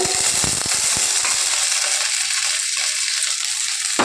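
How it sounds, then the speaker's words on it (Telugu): Sweet corn kernels fry in melted ghee in a pan. A steady, dense sizzle carries on throughout, with a few clicks and stirring taps at the start, and it stays loud and close with no voices. "స్వీట్ కార్న్ ఇందులో యాడ్ చేసుకొని మంచిగా వేపుకోవాలి"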